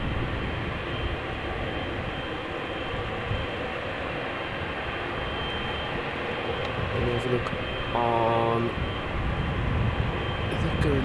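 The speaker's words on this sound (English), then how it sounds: "This Emirates 777 is coming." An Emirates Boeing 777 airliner on approach to Amsterdam Schiphol Airport, a steady broad engine roar heard at a distance, with a rising tonal whine near the end.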